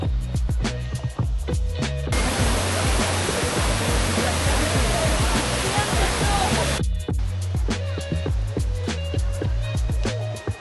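A waterfall near Igatpuri roars loudly in a dense, continuous rush for several seconds, framed before and after by quieter outdoor ambience with bits of nearby talk from a crowd among rocks.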